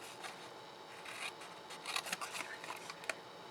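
Scissors cut along the long edge of a card box base up to a score line, making a quiet, close series of crisp snips and paper rasps in quick irregular strokes.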